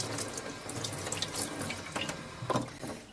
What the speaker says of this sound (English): then you can give it a last final rinse